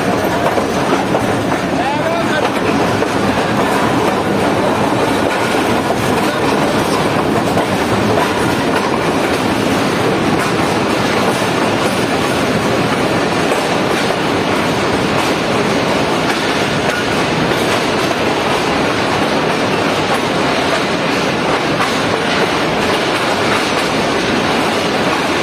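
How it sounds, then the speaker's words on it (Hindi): A Pakistani Business Express train rolls into platform 2 at a station, a steady loud rumble with wheel clatter filling the whole stretch while someone speaks over it. "बाहर एक प्लेटफॉर्म नंबर 2 पर लग रही है हमारी ट्रेन आज की"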